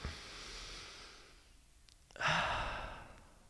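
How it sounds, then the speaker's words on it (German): A deep breath during a guided breathing exercise: a long drawn inhale, a brief pause, then a strong audible exhale, close and quiet with no talk. "nehmt jetzt mal einen tiefen Atemzug ein"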